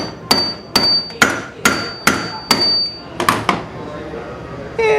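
A hammer strikes a Mya Saray stem during a durability test: about eight sharp, loud, ringing metallic blows close by, mostly evenly spaced, with a quick cluster near the end.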